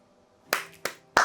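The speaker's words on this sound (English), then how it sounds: "Claps all around." Three sharp hand claps ring out close by, irregularly spaced within about a second, after a brief quiet lead-in.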